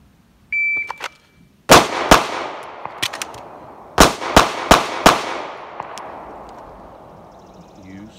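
A timer beep is followed by loud, close pistol shots in a shooting drill, an opening pair and then a quick string of four, each crack ringing out sharply.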